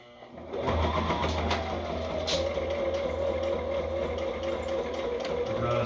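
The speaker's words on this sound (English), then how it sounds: "The sewing machine's having the same problem it was with the leather." A sewing machine with a fault, the same one that struggled on leather, starts up and then runs in a steady, close mechanical whir and chatter for several seconds, with no talk over it.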